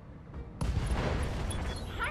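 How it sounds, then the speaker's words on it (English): An ammo explosion in RogueTech, the BattleTech mod, bursts in suddenly after a quiet start and then rolls on as a loud, sustained roar of blast and debris, with no voices. "Ammo explosion."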